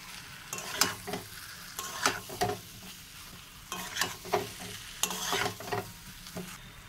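Eggs stirred in a frying pan with a little garam masala powder, giving a steady low sizzle under repeated scraping strokes of a spoon, several bursts in an irregular rhythm, close and fairly quiet, with no talk.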